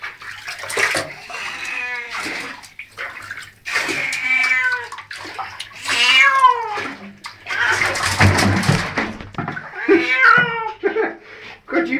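A long-haired cat being bathed in a bathtub lets out repeated loud, drawn-out meows and wails, close to the listener, alongside water splashing and a person talking in between.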